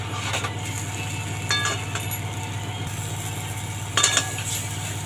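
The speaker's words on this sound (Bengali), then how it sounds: "এবার মশলাটা আবার ভালো করে কষিয়ে নেব।" Chana masala spices sizzle as they fry in oil in a pan. A steady hiss runs under scraping bursts from stirring, heard close, with no one speaking.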